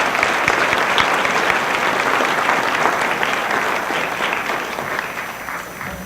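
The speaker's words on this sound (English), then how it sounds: "Please give him another round of applause." Sustained, dense applause from an indoor audience at a community Martin Luther King celebration. The clapping stays loud and steady for about six seconds, easing slightly toward the end.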